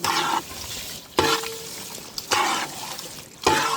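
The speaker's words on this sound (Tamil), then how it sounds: "தாளிப்பு" Spices for tempering crackle and sizzle in hot oil for a wedding-style cabbage kootu, in three loud bursts separated by short quiet gaps, with no talk.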